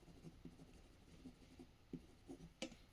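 Pen scratching across paper while working out a Class 10 triangles geometry problem, a run of soft, close strokes and short taps with quiet pauses between them, no talking.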